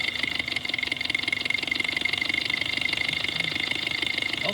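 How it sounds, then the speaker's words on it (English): A car engine idles with its number 4 injector losing voltage so that cylinder misfires, producing a steady close mechanical hum with a rapid, slightly uneven pulsing cadence and no talking. "You can probably hear the cadence of the engine."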